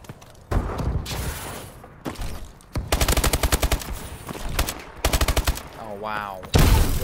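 Call of Duty Advanced Warfare gunfire in bursts: several rapid automatic volleys and single loud shots spread across the stretch, with a mechanical whirring sweep near the end, close and punchy amid game effects.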